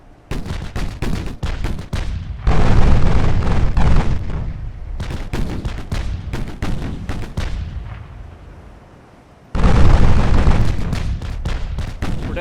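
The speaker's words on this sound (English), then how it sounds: "now all of our guns can still fire" Battleship main and secondary guns, 8-inch and 6-inch, firing in the naval video game Ultimate Admiral Dreadnoughts, heavy booming salvos in repeated bursts with rumbling tails and sharper cracks between, loud and close without speech.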